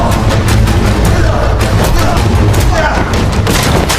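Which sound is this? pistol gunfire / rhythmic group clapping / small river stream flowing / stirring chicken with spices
pistol gunfire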